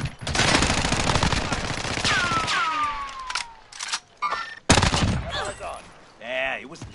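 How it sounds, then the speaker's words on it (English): Gunfire in a PS4 shooter: a loud stretch of rapid automatic fire, then scattered single shots and bursts separated by short gaps, with a player talking over it. "Taking shots."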